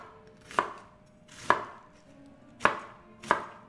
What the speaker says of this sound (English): So I'm going to start with slicing them up.